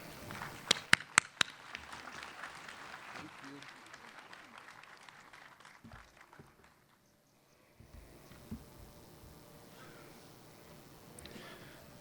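Graduation audience applause welcoming a speaker in a hall, a burst of clapping with a few sharp near claps, fading to quiet before murmurs and scattered sounds resume.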